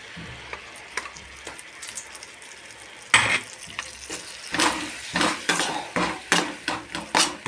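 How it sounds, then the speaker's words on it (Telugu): Onions and tomatoes frying for puri curry, a quiet sizzle at first, then louder repeated clatter of a spoon against the pan while stirring. "ఉల్లిపాయలు టమాటాలు వేసుకుంటున్నాను"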